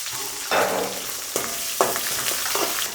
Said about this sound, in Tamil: ஒரு இருபத்தஞ்சி சின்ன வெங்காயம் கட் பண்ணி வச்சுருக்கேன் அதை சேர்த்துக்கிறேன்